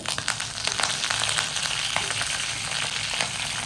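Mustard seeds, curry leaves and dried red chillies temper in hot oil, sizzling and crackling loudly and continuously, with dense popping spatters throughout and nobody speaking.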